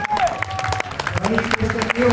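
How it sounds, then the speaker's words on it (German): Spectators clap for a duathlon athlete at a race in Parndorf, short bursts of applause under a loud announcer voice and crowd noise. "Ihn hier mit einem großen Applaus"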